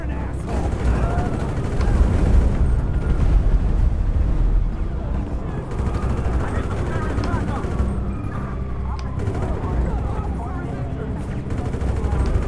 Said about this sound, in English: Don't you be shooting at me